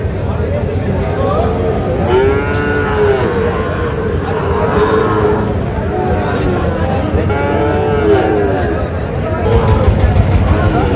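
Sahiwal bull calves and other cattle at a livestock market, mooing repeatedly in long drawn-out calls, several close by, over a steady hum of crowd chatter and voices.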